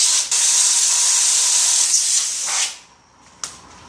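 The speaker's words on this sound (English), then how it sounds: "Get compressed air." Compressed air blasts onto a gear in a loud, steady hiss that runs for over two seconds, fades, then a brief final puff follows.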